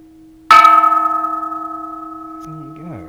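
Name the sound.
Japanese temple bell being struck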